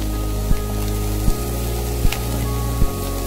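Shredded cabbage hits a pan of frying vegetables with capsicum, giving a loud steady sizzle and hiss, punctuated by four low thumps spaced about evenly apart.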